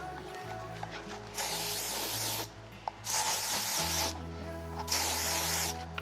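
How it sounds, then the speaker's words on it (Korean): Hairspray sets curled eyelashes with three short, close hissing bursts over a low background hum. "이런 스프레이로 짱짱하게"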